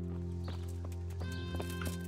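Horse hooves clip-clop in the medieval video game Kingdom Come: Deliverance, a few quick hoof beats over a steady low game hum and ambient drone.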